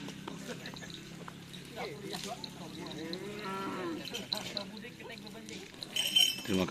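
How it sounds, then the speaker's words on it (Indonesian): A cow moos in the background on a farm, low and drawn out, partly under someone talking, with light clinking and outdoor noise around it. "Tuh ada sapi juga."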